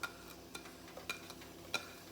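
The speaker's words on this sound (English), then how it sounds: "Now we're sizzling." Diced carrot and onion sizzle in a pot with mustard greens, a quiet, steady fry with a few sharp stirring clinks and pops scattered through.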